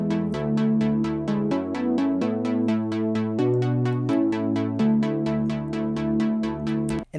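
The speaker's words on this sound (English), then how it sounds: "But in the song, this synth is arpeggiated and plays 8th notes." An arpeggiated synth plays steady 8th-note pulses layered over a sustained melody, with bright repeated notes ticking evenly above shifting held chords, clean and close with no voices.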